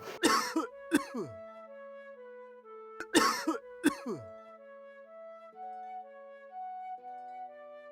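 Two bursts of harsh coughing, each a quick cluster of hacking coughs a few seconds apart, close and loud, with a faint tonal hum lingering in between.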